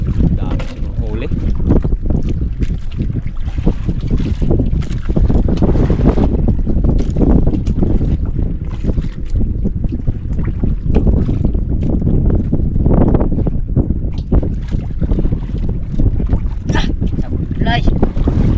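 A fishing boat's engine or hull rumbles steadily on open water, with wind buffeting the microphone and voices talking intermittently over the noise.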